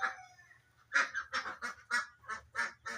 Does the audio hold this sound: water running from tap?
no